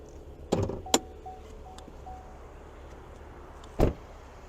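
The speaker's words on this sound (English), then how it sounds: "Now we're going to go ahead and pop the hood." The hood of a 2023 Chevrolet Camaro 2LT RS V6 is popped open: a few sharp mechanical clicks and thunks from the release and latch, then a final clunk a few seconds later, all close by in a quiet car.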